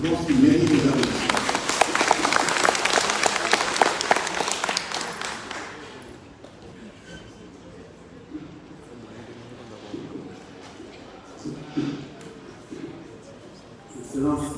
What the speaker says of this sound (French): Je pense qu'il mérite des applaudissements.